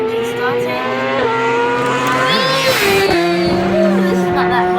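A motorbike engine starts and runs loud and close, holding a steady tonal drone with pitch that dips and climbs as it revs.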